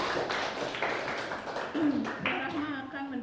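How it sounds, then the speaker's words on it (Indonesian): Applause from an audience at an academic thesis examination, with dense clapping running throughout the short stretch while a voice speaks over it. "Tepuk tangan dulu."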